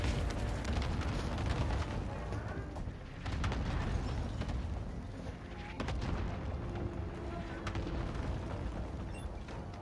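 Cluster strike explosions in a Call of Duty match rumble as dense, overlapping booms and blasts across the whole stretch, loud and continuous with scattered sharper cracks.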